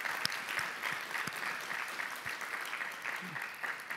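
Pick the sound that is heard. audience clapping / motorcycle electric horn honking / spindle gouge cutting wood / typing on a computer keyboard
audience clapping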